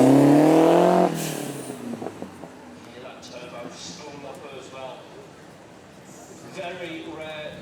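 A Lotus with a 2.2 litre turbo engine roars loudly past at an outdoor supercar weekend demonstration run, fading after a second under a commentator's voice and crowd ambience.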